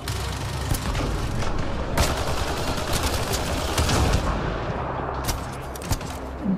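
Gunfire in the Mass Effect Andromeda video game, a continuous volley of rapid, punchy shots over a rumbling battle bed, with a few louder cracks standing out.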